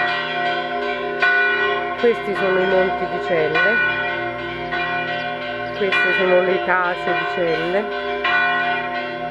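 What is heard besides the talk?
church bell ringing in Celle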